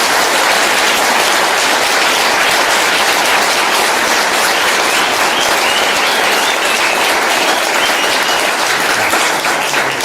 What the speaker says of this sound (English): I would like everybody to give a round of applause to the community workers